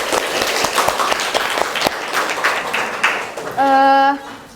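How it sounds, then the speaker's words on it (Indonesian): A crowd claps in steady, crackling applause for a few seconds, and then a sustained electronic tone sounds near the end. "beri tepuk tangan untuk kita semua"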